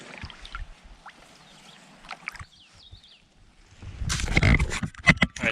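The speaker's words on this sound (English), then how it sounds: "I actually back paddled a little here" Canoe paddling on a lake in Itasca State Park, with soft strokes and water trickles near Moose Lake, then a louder burst of splashing and dripping near the end.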